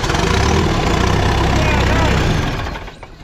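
A John Deere tractor engine running at a steady idle, a loud, close diesel chug that winds down and fades near the end.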